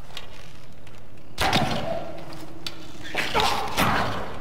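Two sharp twangs with whooshing release mark arrows loosed from a bow in a German-language fantasy role-playing game, arriving about two seconds apart over a steady low background.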